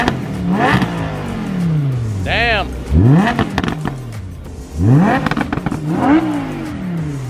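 A 2018 Mercedes-AMG E63 S V8 revs hard several times close by, each blip climbing sharply and then falling away, while excited voices talk and react between the revs.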